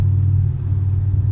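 Supercharged BMW M5 E60 engine fitted with an ESS VT2 compressor kit, a loud, steady low rumble held close and alone without any rise or pause.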